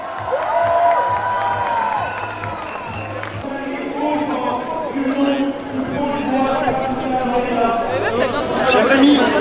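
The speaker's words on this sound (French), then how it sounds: "On les applaudit bien fort" Crowd at a Paris rally for equal rights from birth applauding and cheering, with steady clapping and raised voices filling the space, chatter mixed throughout and a surge of cheers near the end.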